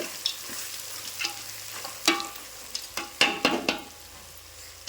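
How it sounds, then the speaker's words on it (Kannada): Crushed garlic frying in oil in a kadai, a low constant sizzle punctuated by several sharp metallic scrapes and taps of a spoon stirring against the pan. "ಈ ಬೆಳ್ಳುಳ್ಳಿನೂ ಈಗ ಫ್ರೈ ಆಗತ್ತೆ ರೀ ಕಡಾ ಪತ್ನಾಗ ಎಣ್ಣೆಗೆ"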